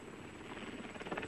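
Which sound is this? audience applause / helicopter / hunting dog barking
helicopter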